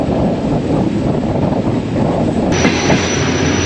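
Passenger train 11U runs steadily on rails through Sindh, a loud continuous rumble of wheels with wind rush and a faint high squeal joining partway through, heard from aboard.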